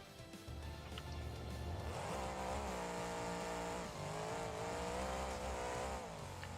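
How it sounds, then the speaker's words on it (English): Car engine in the BeamNG Drive video game, supercharged and tuned to maximum with a large torque converter, revving and holding high RPM with rising and falling tonal whine, steady and fairly close. "Let's see how this engine performs now."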